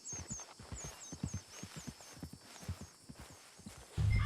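A horse in the Red Dead Redemption 2 video game walks with steady clip-clop hoof steps and gives brief whinnies, with a heavier thud near the end.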